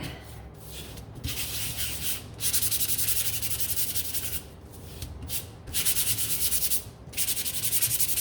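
Sanding a wooden interchangeable door hanger by hand, a steady close scratchy rubbing that comes in long strokes with brief pauses between passes, no talking.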